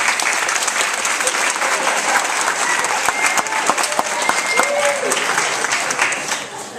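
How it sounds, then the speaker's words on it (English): Crowd at a 2013 high school graduation ceremony gives loud, steady applause, a dense rush of many hands clapping throughout, with a voice faintly audible beneath it and the clapping easing near the end. "please make up your mind if you're going to clap or not"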